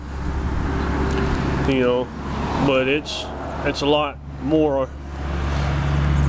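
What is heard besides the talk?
road traffic noise outdoors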